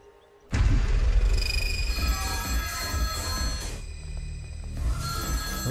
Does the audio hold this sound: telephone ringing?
yes